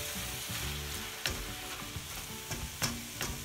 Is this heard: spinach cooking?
yes